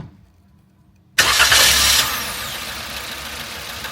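A Suzuki Jimny engine cranks and catches abruptly after a quiet moment, with a loud surge of revs that then settles into a steady idle, heard close up.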